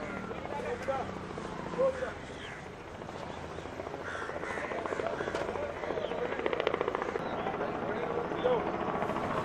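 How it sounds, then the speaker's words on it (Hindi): A helicopter comes in to land at Hardesar village during a welcome event for a minister, its steady broad rotor and engine roar filling the scene while a crowd's voices murmur throughout. "आप देख रहे हैं हेलीकॉप्टर अब हरदेसर गांव में लैंड कर रहा है।"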